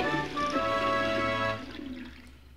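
Water rushing out in the video game Pikmin 2, a loud steady gush with bright tonal ringing that cuts off after about a second and a half and trails into softer splashing.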